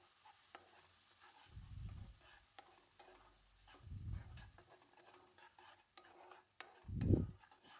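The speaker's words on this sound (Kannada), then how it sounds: "ಈಗ ರುಬ್ಬಿರೋ ಅಂಥ ಮಸಾಲೆನ ಹಾಕ್ಕೊಳ್ತಾ ಇದ್ದೀನಿ ಹಾಕ್ಕೊಂಡು ಒಂದು ಮಿಕ್ಸ್ ಮಾಡ್ಕೊಳ್ಳೋಣ" Ground masala for palak paneer gravy is stirred in a pan, giving quiet scraping and faint sizzling with three low, soft thumps spaced a couple of seconds apart.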